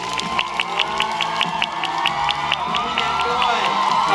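Fan meeting audience cheering and clapping, with high shrill shouts and whoops rising in a rapid repeated pattern over a continuous roar of applause, loud and close throughout.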